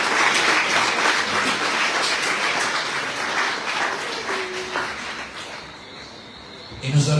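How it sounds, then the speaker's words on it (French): Applause from a crowd at the team presentation of the 2024 Tour de Guadeloupe cycling race, honouring the riders, steady and fairly loud for most of the clip with a voice murmuring underneath, then thinning toward the end. "Alors je vous demande de les applaudir très fort."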